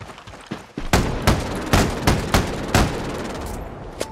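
Gunfire rattles in a Ghost Recon Breakpoint PvP Sabotage match, with about a dozen sharp, loud shots in an uneven string, some close together and some spaced apart.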